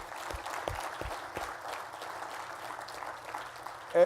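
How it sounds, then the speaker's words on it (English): Moderate applause from a professional association audience at a NASBA president's report, steady scattered clapping of medium loudness with a few sharper claps near the start and no talk over it. "a round of applause"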